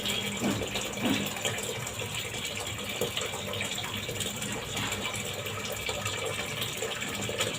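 Water runs steadily into a USB-powered mini dishwasher, a constant moderately quiet splashing gush with faint rattles near the start and no voices.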